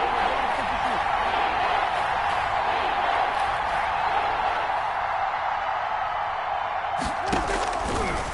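A football stadium crowd in a PS4 game roars as a steady, dense wash of noise that holds level throughout, with brief thumps near the end and a commentator talking over it.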